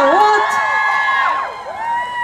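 Several girls in a contest audience shout and whoop together in rising and falling cries, loud and close, with a brief spoken word.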